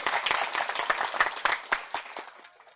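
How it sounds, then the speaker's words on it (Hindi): Women in a Brahma Kumaris gathering clap on cue, a ragged burst of close, sharp hand claps that is dense at first and then thins and fades out near the end. "ताली बजाओ माताएं"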